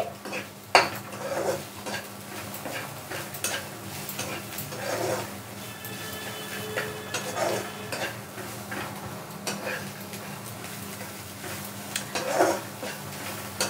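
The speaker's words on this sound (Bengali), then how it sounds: "এইবার নুন দিয়ে আমি আরেকটু নাড়াচাড়া করে নিচ্ছি" Suji upma being stirred in a pan after salt goes in: a spoon scrapes and clinks against the metal in irregular bursts, close and moderately loud, with a faint steady hum beneath and no talking.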